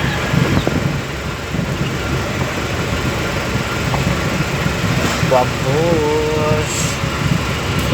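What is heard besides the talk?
car driving fast on road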